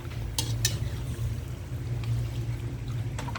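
Pork belly adobo being stirred in a pan with onion and garlic, a steady low simmering hiss under a few sharp utensil scrapes and clinks against the pan.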